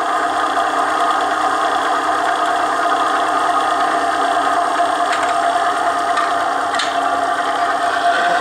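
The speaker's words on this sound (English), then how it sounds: "what you're going to hear is the friction, the bearing against the race" A bearing friction test machine runs with its bearing and race coated in Mobil 1 synthetic grease, giving a steady, even mechanical hum and whine with a few faint ticks, alone and unbroken throughout.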